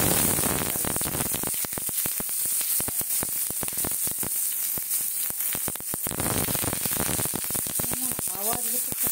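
Chopped onion dropped into hot mustard oil in a pan gives a loud, steady sizzle full of sharp crackles and pops that continues throughout, with a brief voice near the end.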